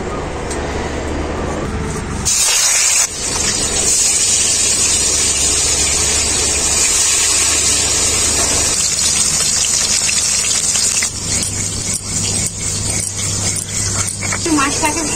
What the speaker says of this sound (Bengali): তেলটাও আমার খুব ভালো করে গরম হয়ে গেছে। মাছগুলো দিয়ে দেবো তেলের মধ্যে।